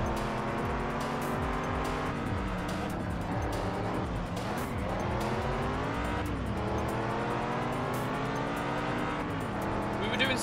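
Koenigsegg cars race in the PS2 game Test Drive Unlimited, engines droning and rising and falling in pitch through shifts and revs, with tire squeal amid a spin-out crash.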